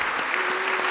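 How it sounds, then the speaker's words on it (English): Audience applause at a city budget engagement forum with the mayor, a dense steady clapping wash filling the whole short moment at even loudness. "Give yourselves a round of applause."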